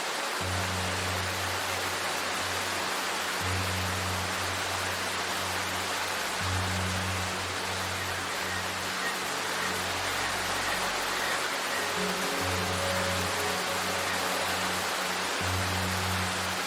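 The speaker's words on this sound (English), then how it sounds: "Oh god, the rain." Steady, dense rainfall in the video game Darkwood hisses continuously, with a low droning hum underneath that cuts in and out.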